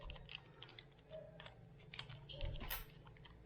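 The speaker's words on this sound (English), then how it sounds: "When you hear the clicking sound, meaning it's already locked in place" Spider landing gear being fitted to a DJI Mini 2 drone, with soft, faint plastic clicks and small taps scattered over a few seconds, close by and alone in a quiet room.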